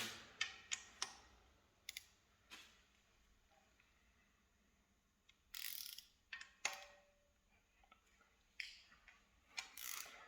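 Bolts on a Subaru EJ25 engine with a million kilometres on it are loosened by hand with a ratchet. Sharp clicks and metallic ticks come in quick clusters with quiet gaps between them, close and fairly faint.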